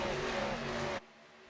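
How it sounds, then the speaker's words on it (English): Sim-racing stock cars of the K&N Series at Michigan roar past in a loud, steady engine drone that cuts off abruptly partway through, leaving a quieter hum. "he's going to try and go around the 75 of Robert Barris"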